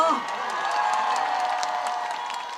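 A large outdoor crowd claps and cheers steadily at a trot concert in Pohang, a dense wash of applause sustained throughout with no break.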